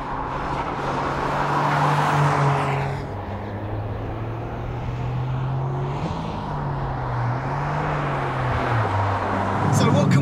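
A 2022 Toyota GR Corolla drives on a race track, its engine a steady droning tone that climbs and drops with gear changes, heard from close by with some speech mixed in.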